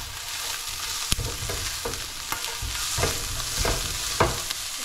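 Onions and garlic sautéing in a pan for a green bean and ground beef stir fry, a steady close sizzle with a few sharp clinks of a utensil stirring against the pan.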